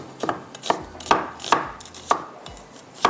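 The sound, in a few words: finely chopping a small onion with a knife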